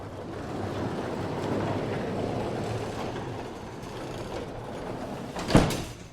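A motorized door balanced with two springs closes smoothly, giving a steady mechanical rumble and hum that runs evenly and ends with a single firm thud as it shuts.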